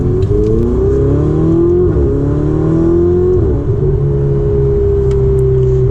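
A Ferrari 488 Spider's engine drones loudly and steadily from inside the car while driving, its pitch rising and dipping through gear changes with a sustained, smooth roar and no talking.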